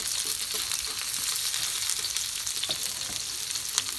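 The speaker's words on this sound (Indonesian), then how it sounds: "Goreng sebentar lagi." Chili frying in a pan of hot oil with shallots already browned, for an Indonesian water spinach dish; a steady, loud sizzle fills the whole stretch with faint scattered crackles and no talking.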